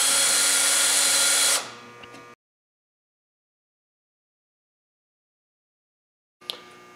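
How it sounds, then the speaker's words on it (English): A power drill bores through a metal gusset on a dog den kit, running loud and steady for about two seconds before winding down to silence, followed by a brief faint rattle near the end. "go ahead and drill."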